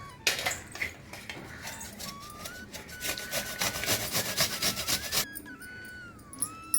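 Apples being grated by hand for apple halwa give a fast, rasping scrape in rapid repeated strokes, close and fairly loud, with a brief pause and light kitchen clatter toward the end.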